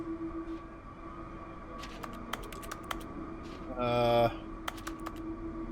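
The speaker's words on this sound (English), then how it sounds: "when you hit E, it just does like the keyboard pressing sound no matter what you're facing" Keyboard key-press sound from the video game The Stanley Parable: Ultra Deluxe, a few sharp clicks and taps over a steady low in-game hum, with a brief louder tonal burst in the middle.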